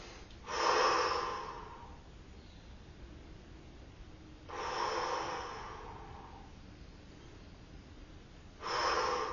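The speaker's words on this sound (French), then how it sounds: "Je lève le menton, inspire, expire 3 fois." Three deep breaths taken during a Do In self-massage exercise, each a slow, close, breathy rush of air with quiet pauses between.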